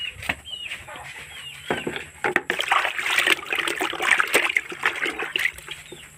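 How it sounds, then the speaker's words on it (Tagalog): Sweet potato tops and water spinach being soaked and washed in a basin of water, with steady splashing and sloshing that grows louder and busier partway through, heard close up with no talking. "talbos ng kamuti at saka kangkong so ayan binabad pa sa tubig pa mahugasan natin"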